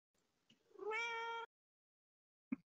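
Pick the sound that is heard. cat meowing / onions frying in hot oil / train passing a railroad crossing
cat meowing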